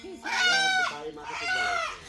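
A rooster in a Bangladeshi village crows twice in close succession, each call a drawn-out, strained cry of under a second, fairly near and loud.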